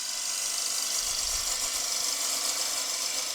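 Small bowl gouge cutting wood on a lathe during spindle turning, taking off heavy timber: a steady, continuous hiss of the cut over the low hum of the spinning lathe, close and even throughout, with no talking.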